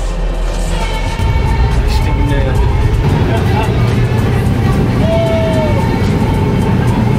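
A third-class train ride in Sri Lanka sounds like a loud, continuous rumble of carriage and rails. Wind noise and the babble of passengers' voices sit over it.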